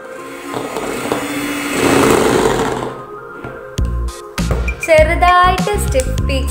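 An electric hand mixer whirs steadily as it beats whipping cream in a cold bowl, loud and close for about three seconds before music takes over.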